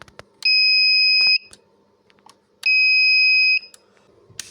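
A power grid return alert beeper sounds two long, shrill electronic beeps, each lasting about a second, separated by a short pause, with faint background clatter in between.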